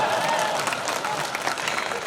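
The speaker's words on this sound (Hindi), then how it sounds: "किसके पक्ष में ताली बजा रहे हो?" Listeners at a kavi sammelan poetry gathering break into loud, continuous clapping that fills the hall, a dense crowd applause with no clear talk over it.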